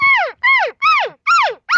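A human voice imitates an excited elk cow's "I'm coming" call: five rapid, loud, descending mews in quick succession with short gaps between them.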